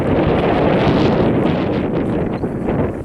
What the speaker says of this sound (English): It's a little breezy for trimming it out.